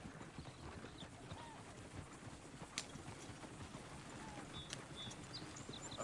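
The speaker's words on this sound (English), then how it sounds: "Is one of you going to get that fella's horse?" Horse hooves clip-clopping in the video game Red Dead Redemption 2, a steady patter of hoofbeats under dense ambient noise with a couple of sharper knocks and faint bird calls.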